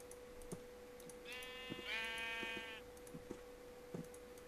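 A single sheep in Minecraft bleats once, a wavering mid-pitched baa lasting about a second and a half, heard quietly over a steady hum and scattered keyboard clicks.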